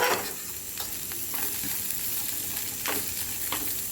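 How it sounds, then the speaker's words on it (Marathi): Grated coconut being fried and stirred in a pan for a Kolhapuri tambda-pandhra rassa, giving a steady soft sizzle with a few scraping stirs, close and alone. "आता खोबरे आपण परतून घेऊया"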